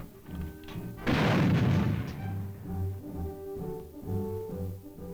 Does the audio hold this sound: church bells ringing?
no